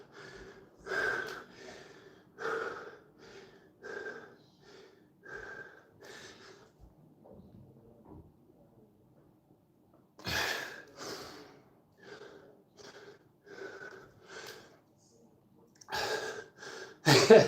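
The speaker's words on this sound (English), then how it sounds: "Actually, the problem is the breathing." Heavy, rhythmic breathing from a person doing fast push-ups, with repeated gasps and snorting exhales in regular bursts, close to the mic, pausing briefly before resuming.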